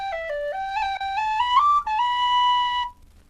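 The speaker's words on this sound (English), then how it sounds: "I like to add some slides in this jig." Whistle-like holed wind instrument playing a short jig phrase with a slide ornament, clear bright notes stepping in pitch with one gliding bend, played solo and close.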